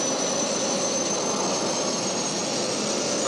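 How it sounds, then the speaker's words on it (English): Rocket engine ignition roars as a steady, loud, broadband rush with a high whine on top, continuous and close for a few seconds, with no voices over it. "We have ignition."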